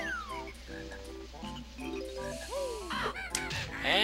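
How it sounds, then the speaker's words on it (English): A creature in the video game Banjo Kazooie lets out a run of squawks and croaking calls, rising into sharp swooping cries near the end over quiet game background sound. "Don't you love that squawking sound?"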